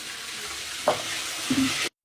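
Oil frying in a home kitchen pan with garlic and onion, a steady broadband sizzle running throughout, with a couple of brief stirring clatters near the end before it cuts off.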